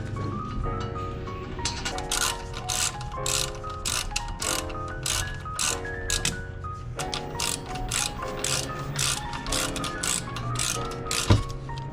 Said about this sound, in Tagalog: after mahigpit na yung bolts gamit ng ating ratchet